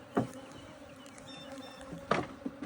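Honey bees buzz around an aggressive hive on a farm apiary, a steady low insect drone running throughout with a couple of louder close passes near the start and end.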